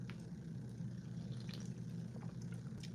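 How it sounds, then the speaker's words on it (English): Sparkling water is poured in a quiet room, a soft low trickle with scattered fizzing drips and pops running continuously; nobody speaks. "This is sparkling water"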